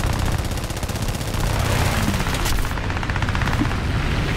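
A Gladiator Mk I fighter's machine guns fire in a rapid, continuous rattle during an air arcade battle in War Thunder, laid over a loud engine drone.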